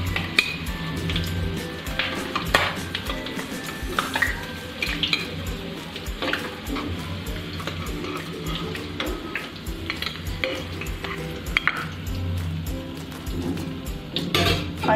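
Eggs fry in hot oil in a kadai while being stirred, a steady sizzle broken by frequent metal scrapes and clinks of a utensil against the pan, close and moderately loud, with no talking.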